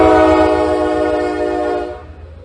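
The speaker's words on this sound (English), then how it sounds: "they just started slow-moving trains running through East Palestine again" A slow-moving train passes through East Palestine, Ohio, sounding a loud, sustained horn blast close by over rumbling wheels. The horn holds for about two seconds and then cuts off, leaving the fading roll of the cars.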